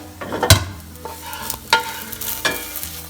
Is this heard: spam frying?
yes